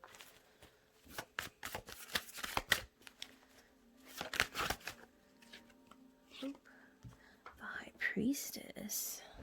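Tarot cards being shuffled close up, several soft papery riffling bursts separated by pauses, with a whispering voice in between.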